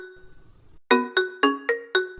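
A mobile phone ringtone plays five evenly spaced, bright, chiming notes in a steady rhythm. The notes are clear and close, and a quieter, muffled sound comes before them.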